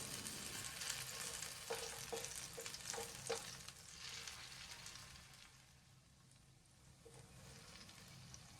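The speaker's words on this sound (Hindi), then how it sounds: "इनको धीमी आंच पर धीरे धीरे सिकने देते हैं।" Raw potato snack shapes fry slowly in oil over a low flame, giving a steady close sizzle with occasional light clinks and scrapes of stirring. The sound softens midway and there is no talking.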